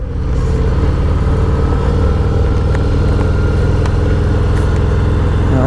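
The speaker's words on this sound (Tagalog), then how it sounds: "Wow, quality muffler." A Chevrolet Camaro engine runs steadily through an aftermarket muffler, its deep, loud exhaust rumble holding close and continuous with no talk over it.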